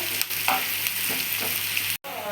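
One large chopped onion fries in oil for vangi bath. It makes a close, continuous crackling sizzle with faint stirring ticks, then cuts out briefly just before the end. No voices.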